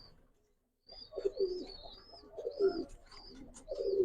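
Budapest pigeons, white and red-neck Hungarian birds kept for sale, coo in repeated low throaty bursts nearby, with faint chirps above, after a brief quiet start.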